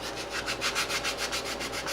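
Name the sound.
sanding plastic on a B-52 model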